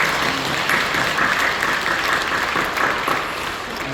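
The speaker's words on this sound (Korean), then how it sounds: "박수로 격려해 주시죠." A congregation at Incheon Full Gospel Church gives sustained, dense applause, a steady wash of many hands clapping together that holds at full strength before easing slightly at the end.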